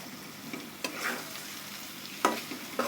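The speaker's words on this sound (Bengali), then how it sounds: "এখন আমরা হালকা বেজে রাখা ডিমগুলো দিয়ে দেব" Lightly fried eggs stirred into sizzling masala in a pan: a steady crackling sizzle with a few scraping stirs and clinks of the spoon, close up and with no talk.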